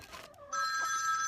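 Telephone ringing in a room during an Italian live broadcast: a muffled thump, then a steady, loud electronic trill that starts abruptly and carries on to the end, with no talk.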